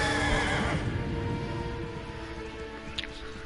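A horse whinnying in the video game Elder Scrolls Online: Greymoor, one drawn-out neigh in the foreground over a soft bed of ambient game sound, fading gradually, with a faint hoof-like clop near the end.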